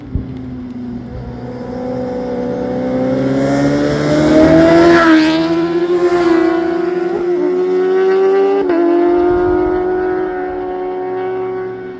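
Vehicles roar past a roadside lookout on the Tail of the Dragon mountain road, one engine note climbing loudly as it nears, peaking mid-clip, then holding a high rising whine before easing off.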